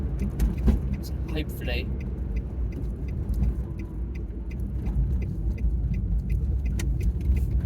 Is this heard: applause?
no